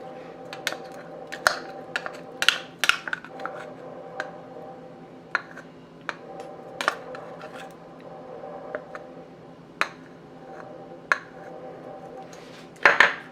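Fruit chaat with lemon and honey being mixed in a bowl, giving scattered close clinks and taps of a spoon against the dish, some in quick clusters, over quiet background hum.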